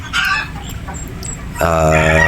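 Possum gamefowl rooster on a Batangas game farm, giving a few close soft clucks, then a loud, sustained harmonic call near the end.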